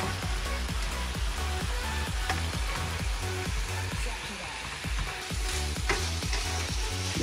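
Onion and bell pepper sofrito sizzles steadily in a pan, a loud continuous frying hiss with periodic stirring scrapes, close up and without talk.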